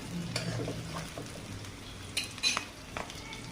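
Chopped onions go into hot oil in a home kitchen pan, with a soft sizzle under sharp metal utensil clinks and scraping as the pan is stirred, several louder clanks near the end.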